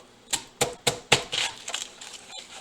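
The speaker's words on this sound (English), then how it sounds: "we're going to cut a small portion of this onion off" A knife cuts a small piece off an onion, giving about five sharp chops spaced roughly a quarter second apart, then softer scraping and crunching. The cuts are close and clear, and nobody talks.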